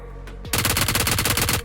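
Rapid automatic gunfire from BGMI (PUBG Mobile) bursts in after a quiet moment, a loud, evenly spaced string of shots that keeps up to the end.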